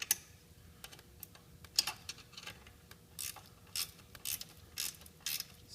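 A lock nut being snugged down onto a bolt with a 7/16 wrench while fitting highway brackets to a Spyder RT, giving a close series of sharp metallic clicks and ratcheting taps, quiet and irregular, with no talk.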